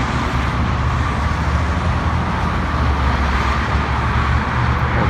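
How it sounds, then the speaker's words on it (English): Loud, dense freeway traffic on six westbound lanes of I-10 in West Phoenix, heard from beneath the 83rd Avenue overpass as a steady, continuous roar of cars and trucks with no talk. "The traffic here is so loud."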